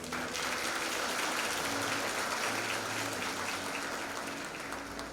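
A graduation audience applauding graduates at a 2024 ceremony, a continuous, even wash of many hands clapping throughout, loud and sustained with a hum of room tone beneath.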